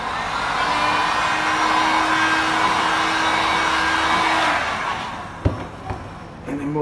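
A hot-air blower dries fresh touch-up paint on a scratch repair on a car, giving a loud, steady whooshing hiss for about four seconds before cutting off, followed by a few light clunks and handling noises.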